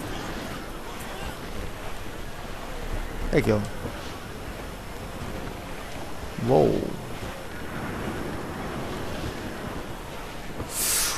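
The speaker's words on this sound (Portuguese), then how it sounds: "Tempestade do caraças agora aqui." Stormy wind and crashing waves at sea around a sailing ship in Assassin's Creed IV, a steady broadband roar with two louder surges, while someone talks briefly over it.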